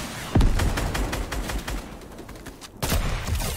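Fortnite gunfire during a long-range fight, with a loud shot near the start and another sharp burst late, over a rapid rattle of distant shooting that runs throughout.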